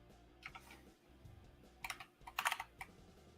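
Typing on a computer keyboard while coding in Kotlin, a few scattered close keystroke clicks in short bursts, with a denser flurry near the end, quiet room and no voices.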